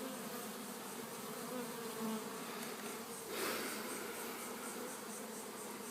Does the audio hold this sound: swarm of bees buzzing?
yes